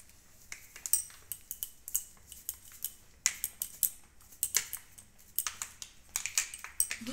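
Spoon stirring powdered milk into hot water in a bowl: a steady run of quick, bright clinks and scrapes against the bowl, close and fairly loud, with no talking.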